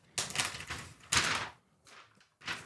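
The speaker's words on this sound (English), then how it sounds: "So now let's look at what you guys all came for, and that is the MacBook Neo itself. So let's go ahead and get this unwrapped." A new MacBook Neo laptop being unwrapped, several loud, close bursts of crinkly, tearing wrapping noise separated by short pauses.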